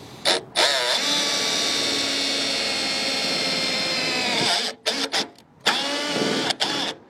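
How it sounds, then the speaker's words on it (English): A power drill bores a hole with a loud, continuous whirring hum that rises under load, then cuts off into short stop-start bursts. "So now I know exactly where to drill"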